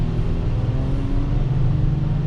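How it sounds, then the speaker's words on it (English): Steady low rumble of a 2019 Audi Q7 three-row SUV's engine and exhaust, a continuous drone with a faint whir, heard from inside the cabin with no talking. "Decent amount of noise coming from the engine and the exhaust and whatnot."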